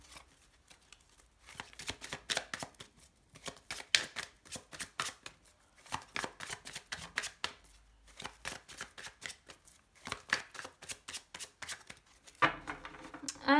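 Tarot cards being shuffled by hand, a long run of quick riffling snaps and soft slaps in irregular bursts, close and crisp with brief pauses between rounds.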